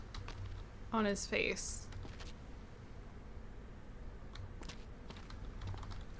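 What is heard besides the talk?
typing on a computer keyboard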